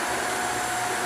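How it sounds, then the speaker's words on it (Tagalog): A 3 horsepower MOX pool pump runs for vacuuming a swimming pool, a constant loud motor whir and rushing hiss with no break or talk. "Yung pump natin na gamit is 3 horsepower MOX"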